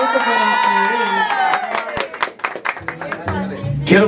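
A crowd cheers and claps for young mariachi performers at a birthday celebration. A sustained musical chord fades out under the noise, then scattered claps and whoops break out, with a voice speaking over the applause.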